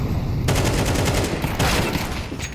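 Five-seveN pistol gunfire in a Counter-Strike 2 esports match, with close-range shots breaking through loud, continuous game noise of overlapping gunfire across the whole stretch.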